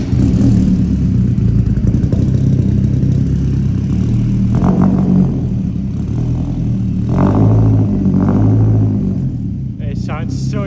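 A freshly built E46 BMW M3 Compact with cat cams and an AWD conversion rumbles loudly at idle with occasional revs, a deep steady engine drone throughout, with voices speaking faintly beneath it.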